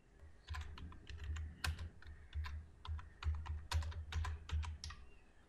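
Keystrokes on a computer keyboard while entering text in GIMP image software, a quick irregular run of close clicks and taps with no talking.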